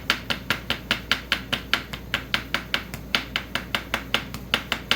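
Hammer striking the edge of a hole being cut, a fast, even run of sharp metallic taps, about four per second, close and loud with no talking.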